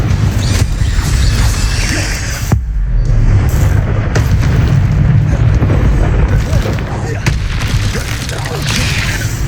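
A fiery Incendio spell blast in Hogwarts Legacy, played on PC, erupts as a loud, sustained roaring boom with crackling bursts and rumbling low end filling the whole stretch.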